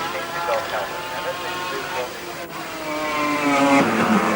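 A Mazda race car driven by Moffat laps a circuit on a cold day in 1984, its engine note rising and falling steadily and growing louder toward the end, with a commentator talking over it.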